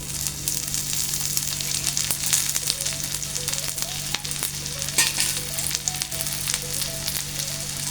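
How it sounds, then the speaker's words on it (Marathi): Chopped onion frying in oil in a pan for a Marathi-style chicken curry, a steady close sizzle with occasional stirring scrapes and no talk. "आता हा कांदा भाजून झाला की यामध्ये अर्धा चमचा तेल घालायचं"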